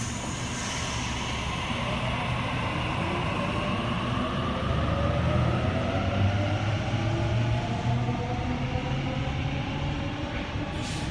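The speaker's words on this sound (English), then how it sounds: "Series 1 Waratah set A33 now departing platform 2" Sydney Series 1 Waratah electric train set A33 departs the platform at Edmondson Park, its motors whining in rising tones over a steady rumble of wheels, close and continuous.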